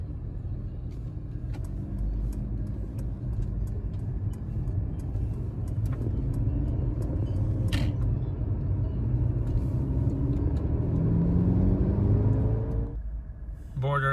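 A 2023 Mercedes C-Class drives along a road toward Switzerland, a steady low engine and tyre rumble heard from inside the cabin, swelling slightly before a brief shift near the end.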